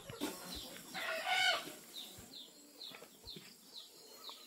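Chickens on a farm in Gabaldon cluck and call in a short burst, with a crowing rooster and some wing flapping nearby, then a run of quieter repeated clucks fading off.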